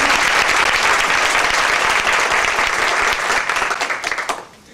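Audience at a research institute presentation breaks into steady, full-bodied applause that stays loud and dense for several seconds, then thins into scattered claps and fades out.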